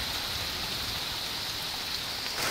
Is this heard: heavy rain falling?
yes